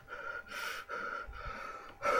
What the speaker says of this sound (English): Heavy breathing for the win.